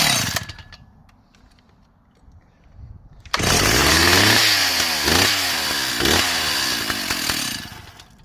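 A Stihl 045 chainsaw, started cold, roars to life after a quiet spell and runs loud and close, its engine pitch sweeping up and down as the throttle is blipped several times.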